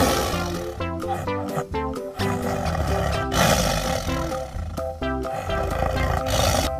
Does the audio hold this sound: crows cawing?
no